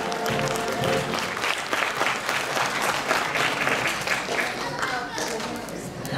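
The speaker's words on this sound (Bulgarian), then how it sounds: "Аплодисменти за най-младите художници на Тополовград, 6 до 8 години." A seated audience claps for child artists aged six to eight at an art awards ceremony in Topolovgrad. The applause is steady and dense throughout, with faint voices mixed in.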